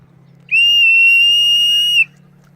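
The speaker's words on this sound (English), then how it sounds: "and there's your whistle." A handmade willow whistle gives one loud, pure, steady tone lasting about a second and a half, with quiet before and after.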